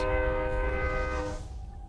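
A sustained, horn-like chord from a train in Breath of the Wild rings loud and steady, then fades out over its last half second with no talking.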